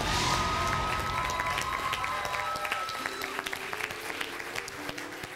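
A lively crowd of fans at a school quiz competition applauds, dense clapping that fades slightly while scattered claps and cheers continue, heard from within the audience with no talk.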